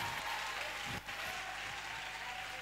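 A church congregation applauds in a dense, steady wash of clapping that dips briefly in the middle and then continues, heard faint and somewhat distant.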